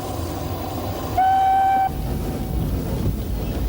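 A Snowdon Mountain Railway train runs near Clogwyn Station, its low rail rumble continuous throughout and broken by a single loud horn blast lasting under a second.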